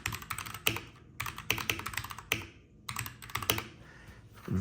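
Keys on a gaming mechanical keyboard are pressed in quick bursts of crisp, clacky clicks, close and distinct, with short pauses between flurries and no talk.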